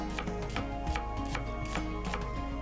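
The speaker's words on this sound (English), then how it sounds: "Now going with the grain of the onion along the axis, I use my hand to align the knife and I go to work." A knife slices an onion along the grain on a board, a regular series of about six crisp, close chopping taps at an even rhythm, with nothing else heard.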